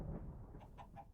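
Chickens in the block-building survival game TerraFirmaCraft give a few short, soft clucks in quick succession against a low background hum.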